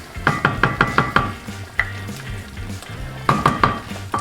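A utensil clacks rhythmically against a bowl while Duke's Mayo is mixed into a sauce base, a loud, close run of regular strokes, a pause, then another burst of stirring.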